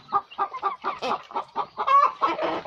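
Two pelung chickens cluck in a quick run of short, close, fairly loud calls, each clipped note following the next with barely a pause and no talking over them.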